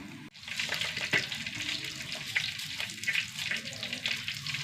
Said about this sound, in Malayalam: ചട്ടി നന്നായി ചൂടായി, വെളിച്ചെണ്ണ ഒഴിച്ചു കൊടുക്കാം കേട്ടോ.